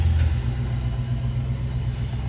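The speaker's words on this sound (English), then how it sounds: "Just want to start it up so you can hear it run." A 1968 Mercury Cougar's engine idles with a loud, close, steady low rumble and no voices over it.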